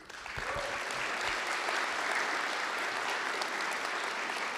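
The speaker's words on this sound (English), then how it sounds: "How about another cheer for our two award recipients?" Audience applause at the 35th CSUN Assistive Technology Conference keynote session, a steady, dense wash of clapping from a large hall crowd honouring two award recipients, sustained at even loudness throughout with no talk over it.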